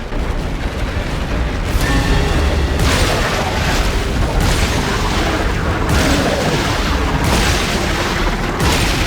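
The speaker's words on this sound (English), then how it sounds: "I'm gonna try out this shotgun." Shotgun blasts in the sci-fi horror game Dead Space 3, heavy booming bursts in a dense, continuous roar of in-game noise with several loud surges.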